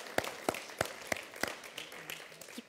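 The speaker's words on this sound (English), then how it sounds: "would you guys put your hands together for the Lord?" Church congregation clapping for the Lord: several sharp, widely spaced hand claps sound at a slow, uneven rhythm, fairly faint and somewhat distant, thinning out toward the end.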